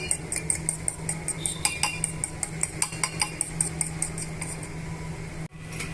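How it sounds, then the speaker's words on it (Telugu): Eggs beaten with salt in a bowl for a bread omelette: a steady, rapid clinking of a utensil against the bowl, close and even, over a constant background hum, ending in a brief pause. "బాగా బీట్ చేసుకోవాలి ఇలా మొత్తం కలిసి కలిసిపోయేంత వరకు బీట్ చేసుకోవాలండి"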